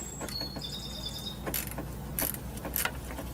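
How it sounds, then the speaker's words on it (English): Ratchet and wrench working an 8mm bolt on a Ford F150 5.4 3V Triton engine during timing chain replacement, giving a few short, sharp metallic clicks and scrapes close by, with faint bird chirps in the background. "This one is ratchet and wrench"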